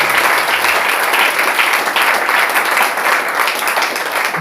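Sustained, dense applause fills a church worship gathering, steady and loud throughout with no break.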